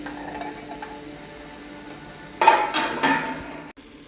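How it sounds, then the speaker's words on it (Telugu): Drumsticks dropped into a pan of softened onion and tomato, giving a burst of loud sizzling with a few stirring clatters for about a second and a half before cutting off, no talk. "ములక్కాడలు వేస్తున్నాను"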